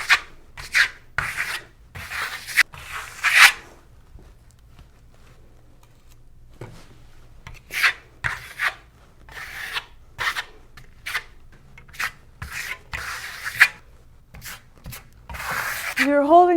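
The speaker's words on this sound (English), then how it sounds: "You're holding the trowel fairly low to the surface. It's not a very high angle. And you're pulling it fairly tightly." A trowel held low and pulled tightly skims a thin coat of Shimmer Stone finish across a surface, making repeated close scraping strokes in an uneven rhythm, with soft background noise between passes.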